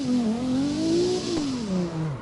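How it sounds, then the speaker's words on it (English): A car engine in a drifting video game revs and drones, pitch rising and falling as it accelerates and shifts, loud and steady. "Why does the car sound like more real?"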